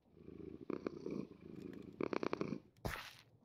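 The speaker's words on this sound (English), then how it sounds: "Oh, we have a cat!" A cat in the Minecraft Create Mod purrs up close in a soft rhythmic rumble, pulsing in short bursts and ending with a brief louder chirp.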